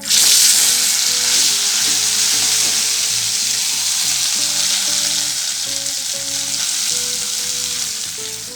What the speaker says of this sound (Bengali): কড়াইয়ে দিয়ে দিচ্ছি জিরে ফোড়ন, তেলের মধ্যেই দিয়ে দিচ্ছি একটু হলুদ, এর মধ্যে দিয়ে দিচ্ছি বেটে রাখা সয়াবিনটা